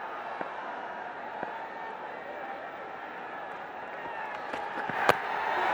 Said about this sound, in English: Still not full crowd in the stadium. You can hear them.